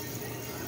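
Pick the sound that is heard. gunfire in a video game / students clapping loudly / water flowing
water flowing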